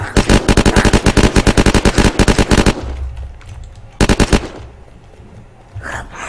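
Gunfire in Unturned: a fast, loud burst of about twenty close rapid shots, a short pause with low rumble, then a few more quick shots and a final faint pop.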